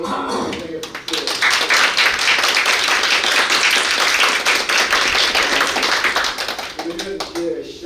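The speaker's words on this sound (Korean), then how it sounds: "여러분 뜨거운 환영의 박수" Sustained audience applause welcoming a visiting professor at a Seoul National University policy forum on national crisis management. A dense, even wash of clapping swells in after a short pause and runs for about six seconds before thinning out.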